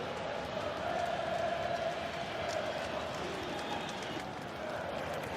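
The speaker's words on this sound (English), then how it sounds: "A big round of applause for Pulisic" A stadium crowd at the USA vs Mexico CONCACAF Nations League final roars and applauds as Pulisic leaves the pitch, a dense, steady wash of cheering and clapping with no break.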